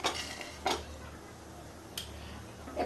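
A lid set onto a cooking pot while potatoes simmer for a Bengali aloo begun chingri curry, giving a few brief, quiet metallic clinks and clatters spaced apart over a soft kitchen background.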